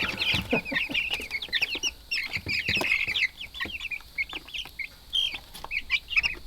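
Many chicks and chickens in a brooder cheep and cluck steadily, a busy chorus of high chirps close by with faint rustling underneath.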